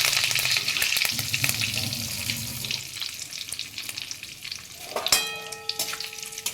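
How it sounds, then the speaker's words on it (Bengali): Cumin, mustard seeds and curry leaves fry in hot oil with a crackling, popping sizzle that fades somewhat, followed by a sharp clink and ringing tone near the end. "ফোড়নটা আমার প্রায় ভাজা ভাজা হয়ে গেছে, খুব সুন্দর একটা সুগন্ধ বেরোচ্ছে।"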